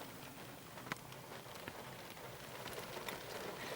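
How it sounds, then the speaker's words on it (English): Steady rain falls over the bleak slopes of Millream in southeast Scotland, a soft continuous hiss with scattered patters and a few sharper drop taps, fairly close and unbroken throughout. "You probably hear the rain."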